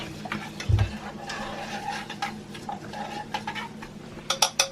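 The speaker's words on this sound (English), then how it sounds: "Stir the rice." A utensil stirs rice in a metal pot, with repeated scraping and clinking against the sides and one dull knock early, then sharper clinks toward the end, all close by with no talking.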